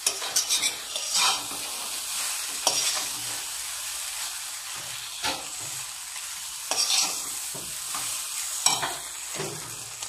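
Chowmein being stirred with cumin powder in a hot frying pan: steady sizzling under repeated scraping strokes of a utensil against the pan, close and fairly loud, with no talking.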